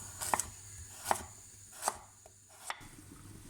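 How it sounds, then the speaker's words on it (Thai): A knife chops carrots on a cutting board in four sharp, evenly spaced strikes, close and clear against a quiet background. "ตอนนี้นะคะเราก็มาหั่นแครอทเตรียมไว้นะคะ หั่นเป็นชิ้นแบบนี้"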